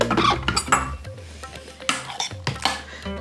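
Measuring spoons clinking and scraping against a bowl while strawberry puree, yogurt and agave are mixed, a string of close, sharp metallic taps and rattles in irregular bursts with no voices.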